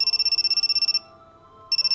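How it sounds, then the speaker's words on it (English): Cell phone ringtone trilling in rapid bursts of a bright electronic tone, a one-second burst, a brief pause, then the ringing starts again, clear and alone. "My cell phone loudly rang."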